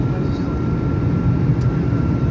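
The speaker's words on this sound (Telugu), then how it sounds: "బాగా షేక్ అవుతుంది ఫ్లైట్, అంటే ఎయిర్ ఎక్కువ ఉండడం వల్ల షేక్ అవుతుందంట ఫ్లైట్." Steady, loud airplane cabin roar during turbulence, a continuous low engine and airflow drone with no break, heard from inside the shaking aircraft.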